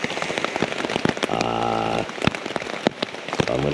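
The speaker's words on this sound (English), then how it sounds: "The rain is probably not going to stop for a long time" Rain pattering on surfaces at a campsite in the Great Smoky Mountains, with dense close drops and a few sharper louder hits. A steadier hum rises briefly in the middle, and no one speaks.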